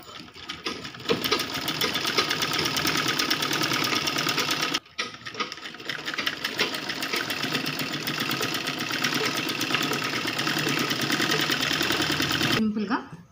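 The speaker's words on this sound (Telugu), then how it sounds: "ఈ విధంగా వేసుకొని ఇలా చుట్టూ కుట్టుకుంటూ రావాలి" A sewing machine stitches fabric for Bahubali-style sleeves with a steady, close, buzzing whir that pauses once briefly and then runs on, with faint talk underneath.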